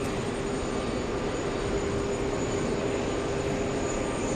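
An Asiana Airlines airliner taxiing at JFK airport, a steady broadband jet engine roar with a constant whine, distant and unbroken.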